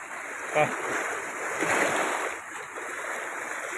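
Kaveri river at Erode surging through two opened dam shutters, a continuous roaring wash of churning water with a brief splash early on, heard at moderate distance.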